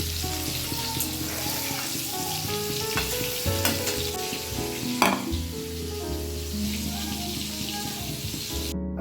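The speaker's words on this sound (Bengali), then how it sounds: "মাছগুলো নুন হলুদ মাখিয়ে যথারীতি ভাজতে দিয়ে দিয়েছি।" Fish rubbed with salt and turmeric fry in a pan, giving a continuous close sizzle and crackle with occasional sharper pops and stirring noises.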